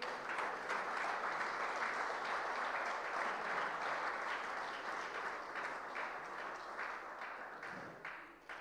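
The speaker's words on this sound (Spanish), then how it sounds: "El aplauso, por favor, para ella." Steady applause from an audience at a university award ceremony, sustained clapping that stays even and moderately distant before tapering slightly at the end.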